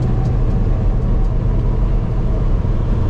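Peterbilt 18-wheeler truck cruising at 70 miles an hour on a highway, a steady, loud low rumble of engine and road noise heard from inside the cab.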